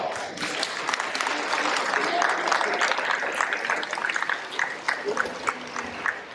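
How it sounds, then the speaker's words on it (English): Audience members at a motivational talk clap steadily together, close and fairly loud, with a few brief cheers and voices mixed in as the applause thins toward the end. "Round of applause."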